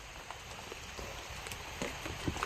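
Steady rain patters down around hunters building a small hut in the open, a dense, even hiss of drops with scattered louder splashes and no voices.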